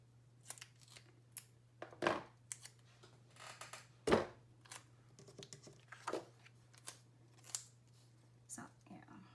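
Scissors cut a long strip of paper for a planner in a few separate snips spread over several seconds, each crisp and close, with quiet pauses and a low steady hum underneath.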